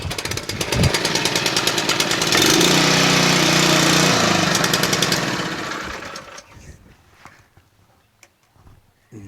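A Murray widebody lawn tractor with a 12.5 HP Briggs flathead engine runs with a loud, steady rattling chug up close, holding for several seconds before winding down to quiet.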